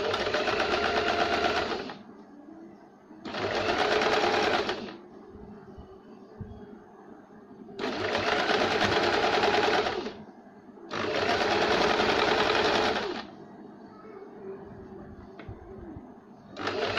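A sewing machine stitches a blouse in four loud, close bursts of rapid rattling, each lasting a second or two, with quiet pauses between them.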